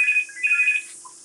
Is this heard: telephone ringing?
yes